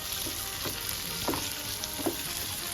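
Boiled potatoes and sausage fry in hot oil in a pan, giving a steady close sizzle with a few soft clicks and scrapes of stirring, with no talk.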